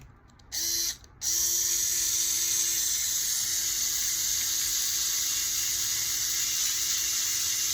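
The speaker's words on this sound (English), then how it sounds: "electric screwdriver sure makes the world a lot easier" An electric screwdriver drives a long screw into a DJI Inspire 2 drone motor, giving a loud, steady high whir that stutters briefly twice at the start and then runs on continuously, close up, with no talk.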